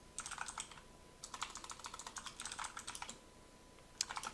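Arrow keys on a computer keyboard tapped in quick clusters of light, close clicks, with short pauses between bursts and a final isolated press, quiet and with no one talking.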